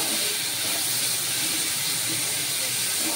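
Onions fry in a pan with a steady, dense sizzle and hiss that runs unbroken at an even level for a few seconds, with no talk over it.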